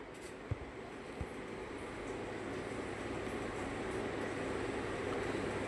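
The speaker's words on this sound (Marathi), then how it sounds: "मुंबई मेट्रो ॲक्वालाईन 3 ही मेट्रो प्लॅटफॉर्मला आलेली आहे" A Mumbai Metro Aqualine 3 train stands at an underground platform, giving a steady low rumble and hum with a couple of faint clicks near the start.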